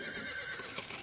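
A short horse neigh in the game Star Stable Online on buying an American Paint Horse, slightly synthetic, rings out briefly and fairly quietly with no talking.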